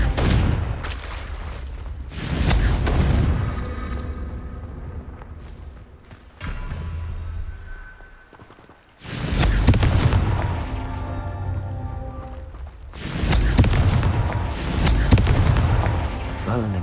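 Confringo fire blast spell exploding in the Hogwarts Legacy video game: repeated loud, heavy booming bursts with crackling rumble, separated by brief lulls, with spell voices calling out amid the combat noise.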